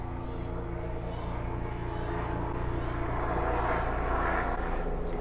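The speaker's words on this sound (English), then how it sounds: "Sorry, I live by a hospital, so there's like helicopters passing by." Helicopter passing overhead near a hospital, heard as a steady, loud low-frequency engine and rotor drone that swells slightly toward the end, with no talk over it.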